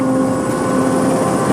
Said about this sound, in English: charters a helicopter to fly to the rig